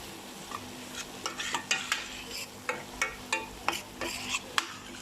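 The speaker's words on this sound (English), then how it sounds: "I'm going to now give it a bit of stir." A spoon stirs mutton mince curry in a pot, a series of soft scraping and clinking strokes against the metal over a faint background sizzle, quiet and close.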